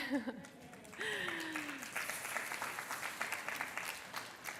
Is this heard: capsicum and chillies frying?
no